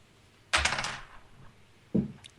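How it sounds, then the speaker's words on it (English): A keyboard thrown during a late-night sports podcast rant lands with a sharp, loud clatter followed by a decaying rattle, then a second, shorter thud about a second and a half later. "Did you just throw your keyboard?"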